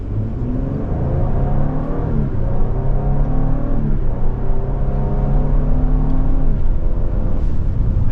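A 2024 Lincoln Aviator Premiere AWD, rated at 400 horsepower, pulls away from a stop with a steady, rising engine note and rolling road hum, loud and continuous with no talking over it.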